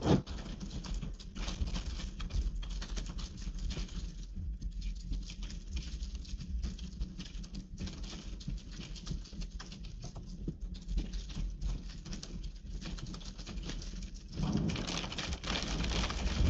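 Steady rain falls during an approaching storm, a dense continuous patter on surfaces outdoors, fairly loud and unbroken, briefly swelling near the end, with no talking.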